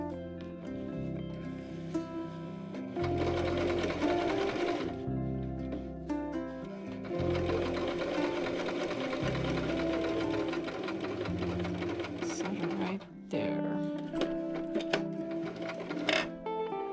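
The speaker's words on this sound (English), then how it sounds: "I'm going to sew to this intersection right here" A sewing machine stitches a scrap fabric placemat up to a seam intersection in steady, loud bursts of rapid mechanical chatter, pausing briefly between runs, with no talking.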